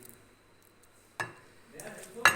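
Cooked chatpata gosht is scooped out of a pan, a few scraping metal clinks and a soft stir against the cookware, close and brief over a quiet background with a faint sizzle.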